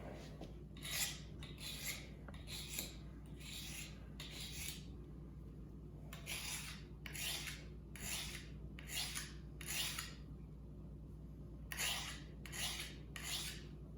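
A steel knife blade is drawn repeatedly across a sharpener in rhythmic rasping strokes, about a dozen in small groups. The strokes are quiet and close over a low background hum, with no talk.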